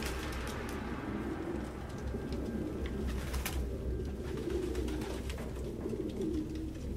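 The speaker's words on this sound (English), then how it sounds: "No human could live with all these fucking pigeons." Pigeons coo softly and repeatedly in an apartment scene of the video game Detroit: Become Human, a low steady murmur of cooing over quiet room ambience with no talk.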